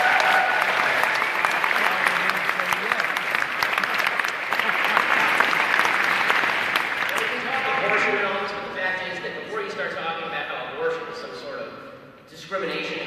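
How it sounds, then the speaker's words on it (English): A university audience at the University of Redlands bursts into sustained applause, dense and loud at first, then thinning into scattered claps and crowd noise as voices begin to come through near the end. "That deserves an applause."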